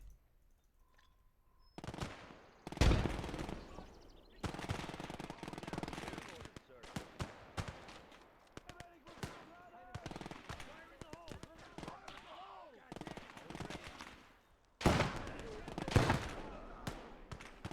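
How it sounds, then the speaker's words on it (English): Gunfire in a World War II real-time strategy game battle, bursts of machine-gun rattle and scattered single shots, some loud and some distant, under and between bouts of someone talking. "Being shot at, our boys are not shooting back. Typical. All right, the war begins."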